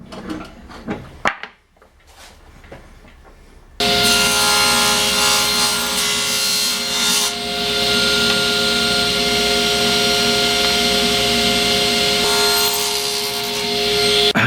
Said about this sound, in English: So I'll cut these blocks and they will be cut at about 30 mil.